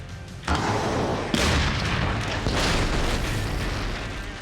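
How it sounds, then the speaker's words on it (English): A loud gunpowder explosion with a deep, sustained boom and rumbling roar, apparently a staged pyrotechnic blast, swelling at about half a second and again near 1.3 seconds, then holding steady without talk. "it went from a disappointing fizzle to a spectacular and deadly explosion"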